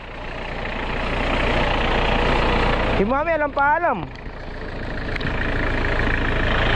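A tractor engine idles and rumbles steadily at close range throughout, with people chatting over it and one voice rising in a brief sung or drawn-out call midway.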